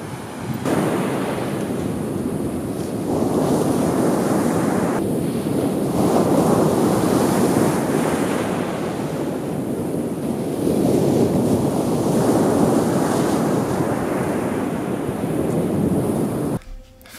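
Small one- to two-foot surf breaks on a beach at Hossegor, France, under onshore wind, a continuous loud roar of waves with wind buffeting the microphone and no talk.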